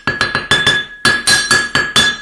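Hammer taps on a hoodie come in a quick, uneven series of about a dozen close, loud metallic clinks, each ringing briefly, grouped in short bursts with small pauses between.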